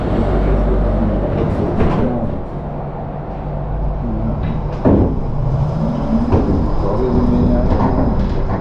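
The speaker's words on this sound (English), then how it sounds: "now we can listen to the sound of this tram once again" A Konstal 105NG tram runs through Szczecin with a continuous low rumble and rattle of wheels and motors, steady and close from inside, broken by a few sharp clunks and squeals.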